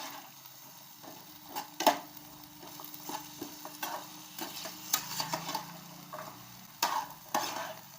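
Peas are stirred and sautéed in a pan, with soft sizzling under a series of scraping clicks and taps from a spoon.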